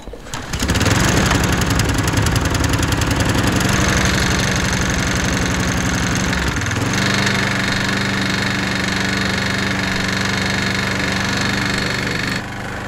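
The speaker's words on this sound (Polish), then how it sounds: "najróżniejsze stuki z wnętrza silnika" A worn, oil-burning Briggs & Stratton small engine, about 25 years old, runs steadily at close range with a loud droning hum. Irregular internal knocks clatter through it, and the pitch shifts partway through.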